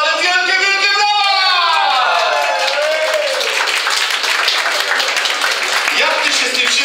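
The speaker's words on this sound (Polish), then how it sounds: "proszę Państwa, ale wielkie, wielkie brawa!" A hospital audience in Ostrów breaks into loud, sustained applause right after a voice calls out, the dense clapping continuing steadily to the end.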